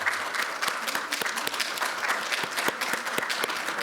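Applause for a newly elected Democratic Party floor leader at a party election gathering: a room of people clapping steadily, with sharp individual claps standing out over the dense patter, moderately close.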